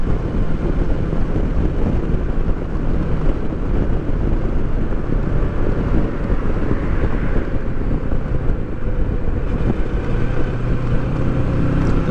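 Steady engine drone and wind rush from a 2018 Kawasaki Versys 650 ABS Tourer motorcycle on the move, heading toward roundabouts, loud and continuous throughout with no pause.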